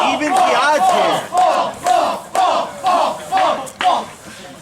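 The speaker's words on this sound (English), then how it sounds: "The crowd rises to adulation of Brandon." A wrestling event crowd chants and roars in rhythmic bursts for Brandon the Bull, loud, close and repeating about every half second, with no commentary over it.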